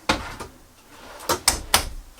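Kitchen drawers in a 2019 Coachmen Orion Traveler 24RB motorhome slide and knock shut, giving several quick, close wooden thumps in an uneven rhythm against a quiet background.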